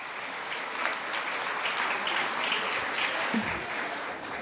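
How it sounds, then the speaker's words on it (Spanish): Warm crowd applause for a school at a prize-giving ceremony, steady clapping at moderate distance throughout, with a brief stray voice near the end. "Fuerte aplauso para el Colegio Scipión Llona."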